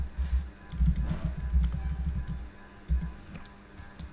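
Fingers type on a computer keyboard with a quick, uneven run of soft key clicks close by, pausing briefly before a few final taps. No one speaks.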